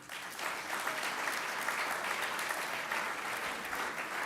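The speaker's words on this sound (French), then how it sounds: "voudrais que vous applaudissiez le patron d'Orange Business Services" A corporate event audience applauds the head of Orange Business Services, producing steady, even clapping throughout, fairly distant and moderately faint, with no speech over it.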